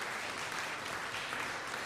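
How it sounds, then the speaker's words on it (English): Two podcast hosts keep up a faint, steady applause-like wash for a couple of seconds, with no talking. "It's an extended applause this week"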